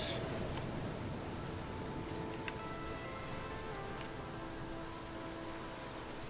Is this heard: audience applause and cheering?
no